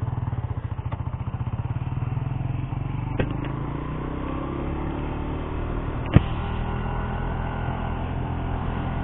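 A Harley-Davidson motorcycle with a 10:1 compression ratio rides along, its engine giving a steady low rumble with a fast pulsing beat. Road and wind noise run under it, with a couple of sharp clicks.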